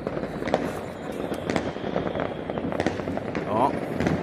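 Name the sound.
New Year fireworks exploding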